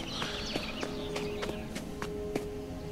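A horse in the Sherlock Holmes: The Awakened video game, its hooves sounding as a steady run of sharp clip-clop steps over a constant background hum, with faint bird chirps mixed in.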